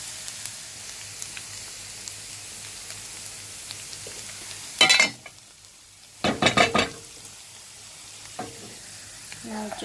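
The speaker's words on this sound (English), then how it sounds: "Now just stir it" Cumin seeds and garlic fry in hot oil with a steady crackling sizzle, broken by two short bursts of a spoon scraping and stirring the pan, close and clear, no voices.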